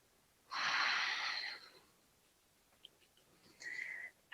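A person doing chair yoga takes slow breaths, a long airy inhale followed by a quieter exhale and a shorter whistling breath, close and soft with no talking.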